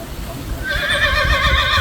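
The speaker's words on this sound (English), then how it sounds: "Is that a horse?" A horse gives a drawn-out, wavering whinny outdoors near a cultural museum, starting partway through and continuing to the end over low background noise.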